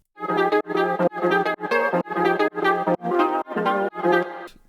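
A chopped lead sample riffs in a UK garage track, its bright harmonic stabs repeating in a steady rhythm of about nine punchy hits, loud and alone.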